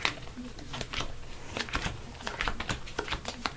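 Marvel Legendary game cards are shuffled by hand, giving a rapid, dense patter of soft card flicks and riffles that runs steadily throughout at low volume.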